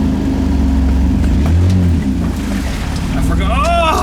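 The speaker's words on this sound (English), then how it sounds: "we're going to drive it up to the garage" A project car being fitted with a roll cage is driven up to a garage, its engine giving a steady, loud low rumble with a slight rise in revs, and a voice comes in near the end.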